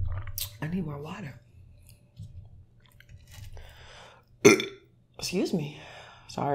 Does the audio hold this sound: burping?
yes